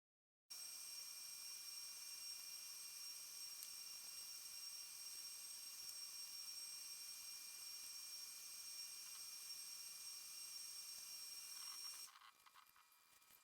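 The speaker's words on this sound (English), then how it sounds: "I'm using the heat gun throughout this process just so I can speed up the drying process" A heat gun blows steadily on reclaimed dock boards to speed drying between layers of paint, giving a loud, continuous, close airy whine that runs unbroken for about twelve seconds before cutting off.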